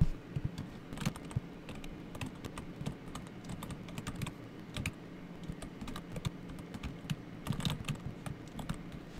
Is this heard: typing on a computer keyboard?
yes